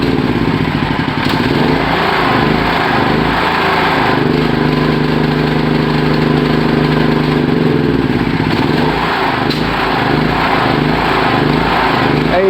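A small electric generator running on gas and petrol at once sputters and chokes as it runs low on fuel, its engine drone loud, close and steady with uneven roughness, heard alone without talk.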